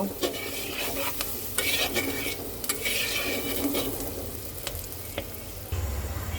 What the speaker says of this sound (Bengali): সব কিছু সুন্দর করে মিক্সড করে দেব এবার কয়েক মিনিট এটাকে ভেজে নেব